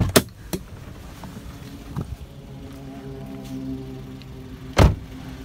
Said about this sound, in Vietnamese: bây giờ mình sẽ mở cái phần khoang máy này để cho quý anh chị và quý vị cùng xem